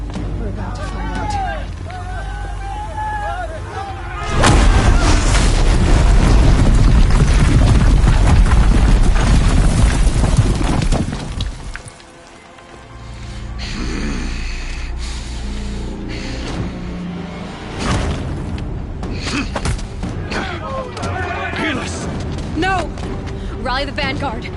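Heavy cannon fire and booming blasts from big defensive guns during a battle in Horizon Zero Dawn, loud sustained barrage with rumbling impacts, voices shouting over the noise.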